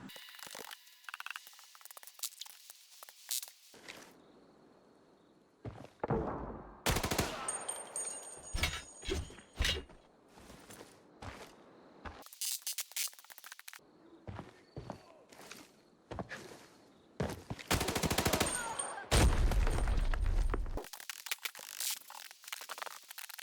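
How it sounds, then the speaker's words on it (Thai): Bursts of rapid gunfire crackle in sharp clusters in the video game Arena Breakout, separated by short quiet gaps, with heavier booming blasts toward the end. "มันมีทั้งเสียงระเบิดเสียงปืนอยู่ตรงหน้าฝั่งประตูแดงใช่ไหม"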